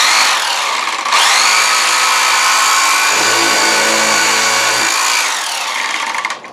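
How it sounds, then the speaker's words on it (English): A Craftsman vibrating sander runs loud and close with a steady buzzing whir, its tone deepening for a couple of seconds midway before the motor winds down at the end. "Here is a vibrating sander. It's a Craftsman."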